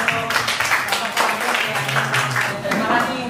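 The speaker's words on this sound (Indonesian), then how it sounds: "Tepuk tangan dulu." A group claps in a classroom during an Islamic religious education teaching assessment, a steady patter of close hands mixed with voices chattering and calling out over it.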